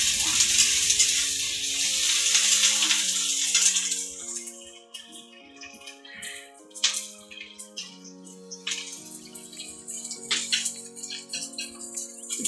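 Kohoda saag being mashed and stirred in a pan, with soft scraping and squelching strokes at an irregular rhythm, a brief hissing burst at the start, and faint sustained tonal music running underneath.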